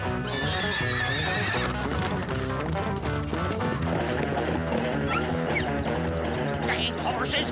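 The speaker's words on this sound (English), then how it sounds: "Dang horses! Wait up!" Cartoon horses gallop with steady clip-clop hoofbeats and loud neighs and whinnies in a Western scene, all layered under a busy music score with brief character voices.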